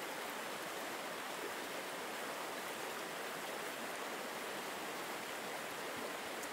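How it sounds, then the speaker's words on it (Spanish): Waterfall and flowing water in a steady, even rush of broadband noise, continuous and moderately quiet with no breaks or other sounds. "La bruma de la cascada y el suave sonido del agua te llevan cada vez más hacia un estado de descanso profundo."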